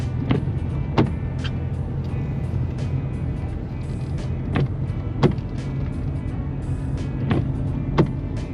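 Cars and other vehicles on a winding mountain ghat road, a continuous low engine rumble with several brief swooshes as vehicles pass close by.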